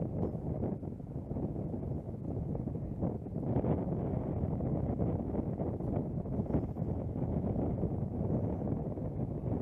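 A headwind blows across an outdoor disc golf course, buffeting the microphone with a low, steady rumbling roar that swells slightly midway and stays constant throughout.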